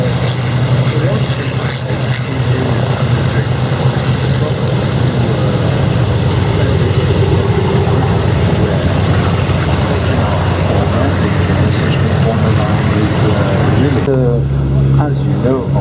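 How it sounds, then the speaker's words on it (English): A WWII B-17 bomber takes off with its propeller engines running: a loud, dense, steady roar with a rumbling drone that fills the scene and drops away sharply near the end. "just like the B-17 is doing now, is taking off"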